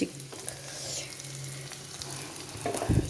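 Chicken frying in a pan for chicken thoran, a soft steady sizzle with light scraping and stirring, close and fairly quiet, with a few louder clatters near the end.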